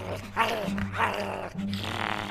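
Dogs growl in the Minecraft: Story Mode video game, a steady low rumbling snarl with louder growling bursts and a few yips, close and continuous without talk.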